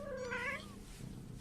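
Abandoned kittens at a sanctuary give a short, high, wavering meow up close, followed by quieter rustling background sound.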